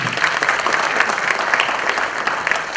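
An audience at a stage event applauds the people on stage with steady, continuous clapping from a crowd close by, lasting the whole stretch with no talking over it.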